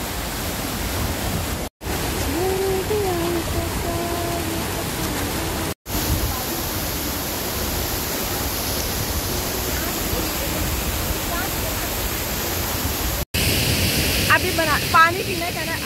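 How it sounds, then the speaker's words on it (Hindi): Jannat Abshar waterfall in high mountains, a steady broadband rush of falling water filling the whole clip, loud and continuous with brief dropouts, with faint voices mixed in. "ये देखे जन्नत आबशार, हम इसके पास आ गए, कितनी दूर से।"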